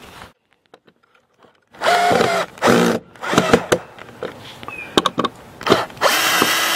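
A cordless power drill drives screws to tighten a deeper outlet box into the outside wall of an RV, with loud whirring bursts, short pulses and ratcheting clicks, close up.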